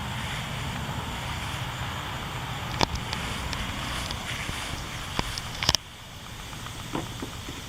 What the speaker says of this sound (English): I want to give this a first start with this aftermarket carburetor here.